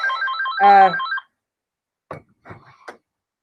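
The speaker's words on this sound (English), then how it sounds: "Sorry about the phone." A telephone rings nearby during a spoken update on the 2020 election campaign, giving one warbling electronic ring burst. Silence and a few faint clicks or tones follow.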